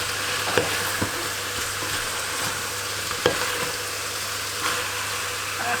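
Food frying in a pan is stirred with a steady sizzle, marked by a few sharp clinks and scrapes as the utensil knocks the pan.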